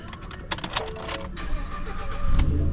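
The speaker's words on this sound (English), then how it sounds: "Let me go ahead and start the truck, let it cool off while I'm waiting." A Rivian electric truck starting up, heard as a short series of clicks and clunks, then a low hum that builds toward the end.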